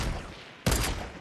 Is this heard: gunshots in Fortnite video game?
yes